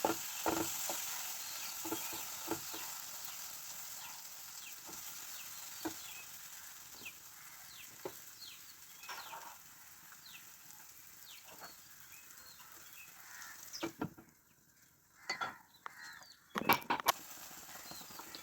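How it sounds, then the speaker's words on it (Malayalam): Egg roast masala with eggs being stirred in a pan, a steady soft sizzle under scattered scraping and clinking of a spoon, louder clatters near the end. "നല്ലതായിട്ട് ഇളക്കി കൂട്ടി മുട്ടയുടെ മുകളിൽ ഇത് മസാല പിടിപ്പിച്ച് വയ്ക്കുക"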